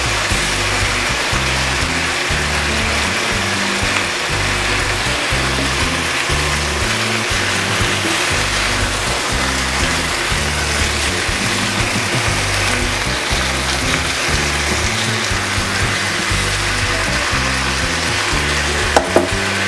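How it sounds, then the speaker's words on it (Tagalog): Onion and tomatoes frying in a pan with chicken, salted and peppered, give a continuous, even sizzle with faint bubbling, close and fairly loud, steady throughout without any talk. "ilalagay na natin ang ating onion at ang ating tomatoes."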